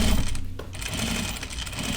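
A home sewing machine stitches a backpack with a steady, close, rapid mechanical whirr that pauses briefly and then runs on evenly.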